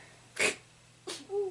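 A sharp sneeze bursts out from a 3-year-old cat, followed a moment later by a second short sneeze-like snort, close by in a quiet room.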